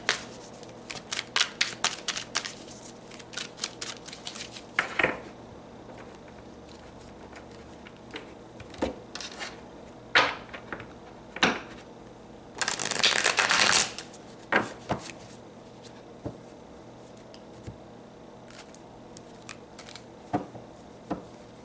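Tarot cards shuffled by hand in repeated quick riffling bursts, with one longer, louder dense shuffle partway through, close and clear with almost no talking.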